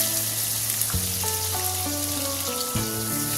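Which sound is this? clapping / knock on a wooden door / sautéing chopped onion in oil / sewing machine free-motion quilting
sautéing chopped onion in oil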